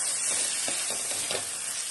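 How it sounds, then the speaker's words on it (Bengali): Fried potatoes being stirred into a sizzling fish curry masala, a steady hiss of frying with a few soft scraping stirs in the middle, close and continuous. "এবার আমি ভেজে রাখা আলুটা দিয়ে দেব। আলুটা দেওয়ার পরে আবারও আমি কিছুটা নেড়ে ছেড়ে দেব"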